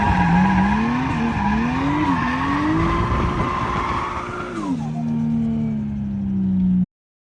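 A car drifting on a track, its engine revving and sliding up and down in pitch while the tires squeal steadily and loudly throughout, a strained wail that runs continuously until it cuts off abruptly.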